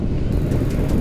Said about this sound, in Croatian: sakrit se od bure